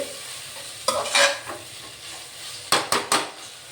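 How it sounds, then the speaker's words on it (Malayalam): Onion, tomato and masala sautéing in a pan for a mushroom biryani, a steady sizzle broken by a few sharp scrapes and clinks of a spoon stirring against the metal, close and with no talking. "കുറച്ച് മസാല കൂടുതലും ഉണ്ട് നമുക്കിതൊന്ന് നന്നായി വഴങ്ങിയാക്കാം"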